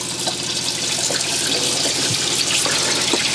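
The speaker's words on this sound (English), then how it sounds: "I'm going to actually run out some water just to have a look and see." Water runs steadily from a tap while a boat's fresh water tank is drained below half, a continuous close hiss and splash with no voices.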